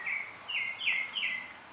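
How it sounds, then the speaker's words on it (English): Wild birds singing outdoors at a roadside spot in Sarasota, Florida: several clear, high, slurred whistled phrases repeat at moderate distance over quiet background, with no talking. "these birds are singing a song"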